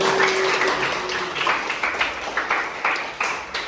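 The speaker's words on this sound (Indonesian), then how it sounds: "tepuk tangan dulu kita semua" Students in a classroom clap together briefly, a scattered, moderately loud patter of hands with a few sharper claps standing out near the end.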